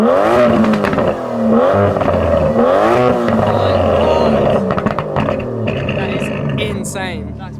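An Aston Martin DB11 AMR's V12 engine revs up close in several rising and falling sweeps, loud and throaty, while people talk and react over it.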